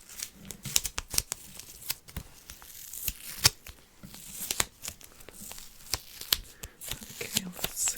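Tape tears off in quick rasping strips, up close and crisp, with crinkling and handling noises in between, several sharp rips spread across the stretch.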